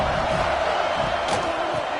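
Stadium crowd at a USC vs UCLA college football game in a video game, a steady loud roar of many voices with swells of cheering that hold constant throughout.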